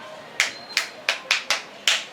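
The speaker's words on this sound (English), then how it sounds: "let's go with the mosquito clap" A group performs a mosquito clap at a reading marathon session: six sharp, distinct claps spaced roughly evenly apart, close and crisp with no talking over them.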